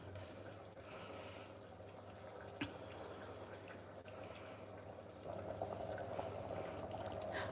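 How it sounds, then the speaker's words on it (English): Matar paneer gravy simmering and reducing in a pot on a home stove, a faint, steady low bubbling with soft liquid burbles, growing slightly busier toward the end. "It's all simmering down, reducing the gravy"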